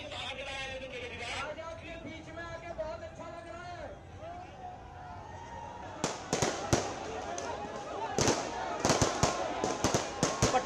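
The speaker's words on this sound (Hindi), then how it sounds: "पटाखे जला रहे हैं आम आदमी पार्टी के कार्यकर्ता।" Firecrackers set off by Aam Aadmi Party workers at a street celebration burst in sharp repeated cracks that grow denser and louder toward the end, over a steady hum of crowd and voices.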